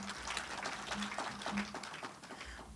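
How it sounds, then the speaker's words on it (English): Audience applause for a panelist being welcomed at a regional disaster risk management forum in Eswatini, a steady wash of clapping at moderate distance with a faint hum underneath, lasting throughout. "Let's give him a round of applause"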